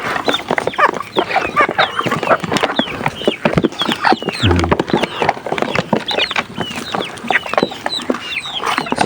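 A pair of Rhode Island Red chickens cluck busily and close by, a dense run of short chirping calls and clucks with no pause.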